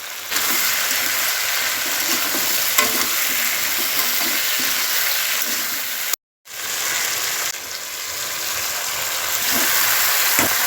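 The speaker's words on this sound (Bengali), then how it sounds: "মাংস আর সবজি ভালো করে কষে নেই" Chicken and vegetables stir-fry in a pan with a loud, steady sizzle and the scrape of stirring, with one brief drop to silence partway through.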